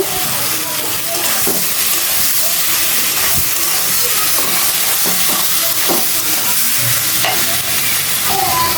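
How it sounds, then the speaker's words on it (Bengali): Sweet pumpkin cooking in oil, stirred in a pan: a steady loud sizzle and hiss with scraping stir strokes recurring throughout, no talking. "মিষ্টি কুমড়োটা খুব সুন্দর সেদ্ধ হয়ে গেছে আমি নেড়ে চেড়ে নিব"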